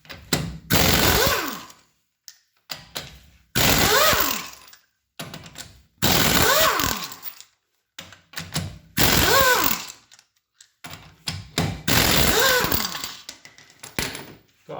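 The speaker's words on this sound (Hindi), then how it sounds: "तो आपने ये देखा, ये सिर्फ चंद सेकंडों के अंदर इसने जो है ये सारे बोल्ट खोल दिए।" A pneumatic impact gun loosens bolts in five loud, close bursts of rapid hammering rattle, each lasting about a second with a falling whine as it spins down, separated by short pauses and clicks.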